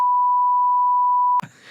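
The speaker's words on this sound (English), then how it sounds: "I'm going to drop some beeps in there." A single steady censor beep tone holds for about a second and a half, then cuts off abruptly into faint room noise.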